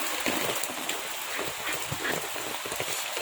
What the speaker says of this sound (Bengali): আজ 3 দিন ধরে প্রচণ্ড বৃষ্টি কিছুতেই থামতে চাইছে না